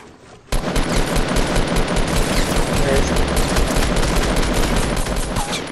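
Sustained, dense gunfire from a silenced pistol in the Fortnite video game, starting abruptly and continuing loud and rapid for several seconds, with overlapping shots forming a continuous crackling barrage.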